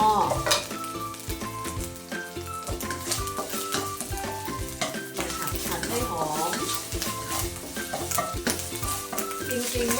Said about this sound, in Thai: เอามาผัดให้หอมเหมือนเดิมนะคะผัดเผ็ด